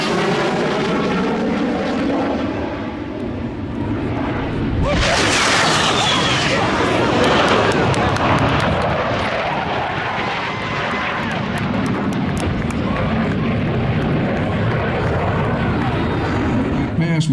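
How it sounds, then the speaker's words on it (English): Five Blue Angels jets fly past line abreast in a wet pass at an air show at Pensacola NAS, a loud roaring rush that surges in near the midpoint and keeps thundering, with an announcer talking over it. "the Blue Angels 5 airplane line abreast, wet pass"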